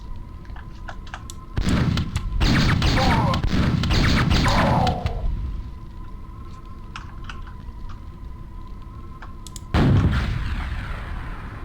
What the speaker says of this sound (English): Thank god I had a rocket!